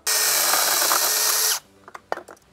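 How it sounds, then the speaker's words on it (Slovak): A Procraft PKA 32 Li cordless saw cuts through a tree branch outdoors in a garden with a loud, steady high-pitched motor whine for about a second and a half. It then cuts off, followed by a few faint clicks and knocks. "Ale my testujeme pílu, takže ideme na to."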